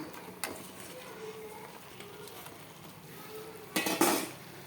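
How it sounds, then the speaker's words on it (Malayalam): Fried chicken tipped into masala in a pan: quiet scraping and clinks of a utensil against the pan with soft sizzling, then a louder clatter and hiss near the end. "ഇനി ഇതിലേക്ക് നമ്മൾ ഫ്രൈ ചെയ്ത് വെച്ചിരിക്കുന്ന ചിക്കൻ ഇട്ട് കൊടുക്കുക"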